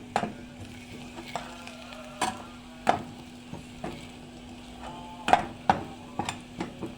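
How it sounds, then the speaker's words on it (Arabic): Food sizzles steadily in a pan while a utensil scrapes and knocks against it at irregular intervals, close by, with no voices. "نقلبها كويس معاها. ناخدها تقليبه كده واحده."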